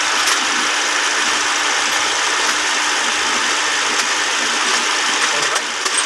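A freshly overhauled Ford Fiesta engine idles with a steady, close, even whirring drone that holds at one level throughout.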